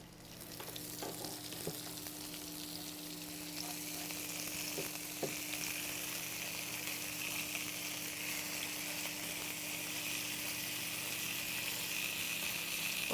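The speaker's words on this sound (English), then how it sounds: "as the pan heats up, the bacon will start to spit" Bacon and beef sliders fry in a hot pan with a steady, dense sizzle and scattered spitting pops, continuous and fairly close, with no talking.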